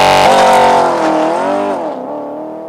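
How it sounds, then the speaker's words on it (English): A Porsche Panamera GTS launching under launch control in Sport Plus mode, its engine a loud, close, rising roar that swells and then tapers as the car pulls away hard, with no talking over it. "Hit the Sport Plus button, left foot on the brake, right foot on the gas, and there's your launch control."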